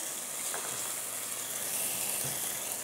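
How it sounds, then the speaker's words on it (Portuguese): Onion and chopped bell pepper frying in a pan: a steady, dense sizzle holds throughout, broken by a few faint stirring clicks. "Vamos fritar a cebola aqui por uns 2 minutinhos"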